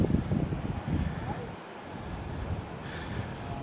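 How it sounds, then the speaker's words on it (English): Wind buffeting the microphone on a footbridge over the ocean beach at Lakes Entrance, a steady broadband rush with distant surf and faint people talking behind. "you can probably hear more wind than anything else."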